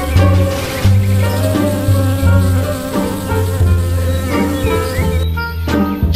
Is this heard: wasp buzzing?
yes